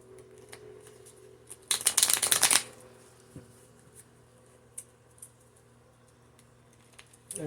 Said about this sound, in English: So I'm gonna pull from my random taboo deck.